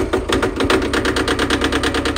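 An old Pinto battery drives a Honda engine's starter, which cranks over in a rapid, even chugging rhythm of pulses that repeats steadily and close-up without catching.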